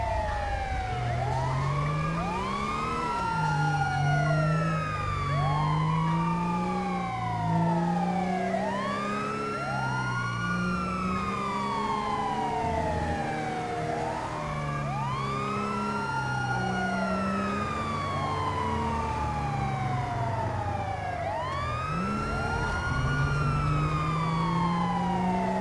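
Several ambulance and emergency sirens in GTA 5 wail continuously, overlapping rising and falling sweeps that stay loud and steady throughout, with a low vehicle engine rumble underneath.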